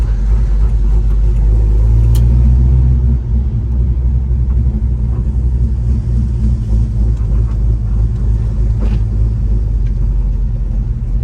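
A 1975 Chevrolet Camaro with a numbers-matching 350 V8 and four-speed pulls away steadily, its deep engine rumble loud and close throughout with a slight dip in level partway through.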